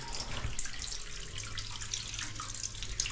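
Water runs strongly from a tap in a nearly finished new house, a steady, fairly quiet gush with no talking.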